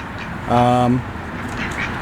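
Single loud duck quack lasting about half a second, close by, with faint background sound and no talking.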